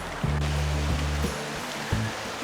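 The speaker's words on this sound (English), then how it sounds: "the trail's just following the creek at a steady and reasonable grade" A mountain creek beside a trail in the Pecos Wilderness rushes steadily nearby, a continuous watery hiss, with a few low thumps and knocks mixed in.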